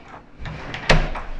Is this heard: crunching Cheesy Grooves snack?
no